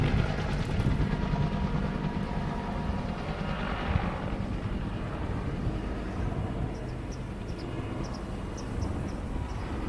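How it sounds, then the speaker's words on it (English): A steady, distant rotor drone of a helicopter hums throughout, fairly faint and continuous, with no talking. "I hear it, but I don't see it. Over here. Helicopter."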